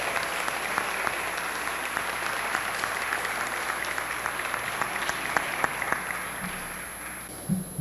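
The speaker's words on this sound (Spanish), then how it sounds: "a quien le deseamos un fuerte aplauso" A conference audience in Cuernavaca, Morelos, applauds steadily for several seconds, a dense, even wash of clapping that tapers slightly at the end.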